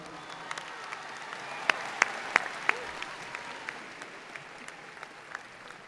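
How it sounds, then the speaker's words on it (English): An audience at a 2018 Hebron High School graduation ceremony breaks into applause, a sustained wash of many hands clapping with a few sharper claps standing out, moderately distant and fading after a few seconds. "Can we get a round of applause?"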